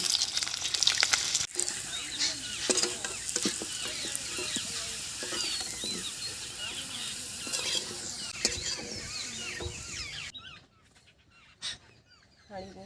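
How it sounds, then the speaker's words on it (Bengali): Potatoes sizzle steadily in hot oil in a clay handi pot while being prepared for handi chicken, with crackling and stirring throughout before the frying noise suddenly drops away near the end. "তো হান্ডি চিকেনের জন্য আমি আলুটাকে ভেজে নেব"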